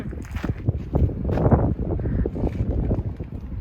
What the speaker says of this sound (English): That wind though, it's crazy